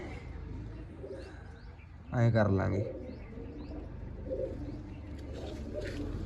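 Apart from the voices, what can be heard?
pigeons cooing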